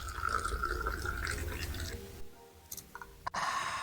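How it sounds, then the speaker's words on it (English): Tea poured from high up into a glass in Morocco: a thin, steady liquid stream for a couple of seconds, then a few faint drips and splashes, quiet and close. "they poured the tea from high up like this"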